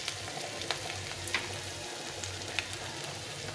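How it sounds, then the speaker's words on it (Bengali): Ginger frying in a pan for shukto dal, a soft continuous sizzle with occasional small pops and faint clicks, quiet and close. "একটু লাল লাল করে ভেজে নিতে হবে আদাটা"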